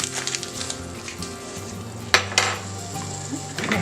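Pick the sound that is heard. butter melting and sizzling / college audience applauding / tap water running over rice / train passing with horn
butter melting and sizzling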